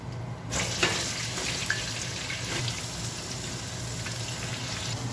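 Eggplant fries in hot oil, a steady close sizzle and crackle running continuously with a faint low hum underneath and no talking.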